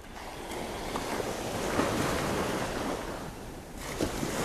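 Ocean waves wash steadily onto the beach at Dover on a calm morning, a broad rolling surf roar that swells and ebbs slightly, with light wind on the microphone and no talking.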